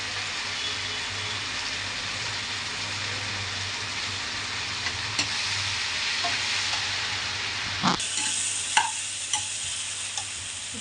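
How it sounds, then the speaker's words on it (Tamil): Milk tea boiling with ginger, cardamom, jaggery and tea leaves, a steady bubbling hiss with a few soft clinks and light knocks near the end. "பாருங்க மக்களே, டீ கொதிக்குது."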